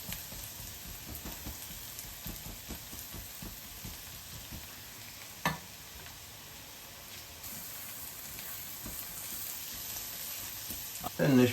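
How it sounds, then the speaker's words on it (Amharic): Berbere spice paste frying in a pan for an Ethiopian fish dish, with a steady close crackling sizzle and occasional stirring scrapes throughout, plus a sharp clink partway through. "በርበሬያችንን እንጠብሳታለን ማለት ነው እንዳታቃጥለን።"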